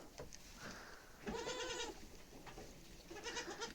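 Goats bleat while being fed baking soda, a few quavering cries standing out at close range over a steady background hiss, with a brief gap before more bleating near the end.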